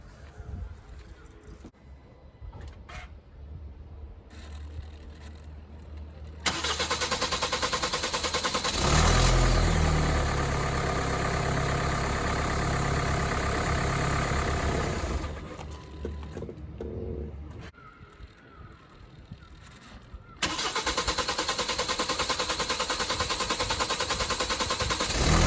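A 2014 Kia Sportage 2.0 CRDI diesel engine just after a fuel filter change: starter cranking, then the engine catches and runs loud, dies away, and is cranked and started again into a steady close idle.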